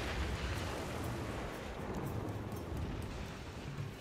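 A dump zone is demolished in the SimCity city-building game, giving a dense, rumbling crash of noise that holds at a steady level for a few seconds, with no voice over it.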